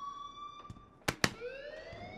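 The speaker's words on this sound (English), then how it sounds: "Please turn off that alarm since that's your job." Two sharp electronic alarm bursts ring out from the Life is Strange video game, joined by tonal siren-like lines that sweep upward afterward, fairly clear with no voices.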